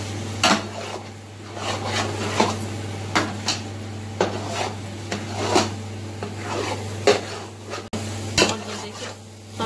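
A large pot of carrot halwa with ground coconut is stirred and roasted, a spoon scraping and knocking against the pot in steady repeated strokes roughly every half second over a low constant hum, with no talking.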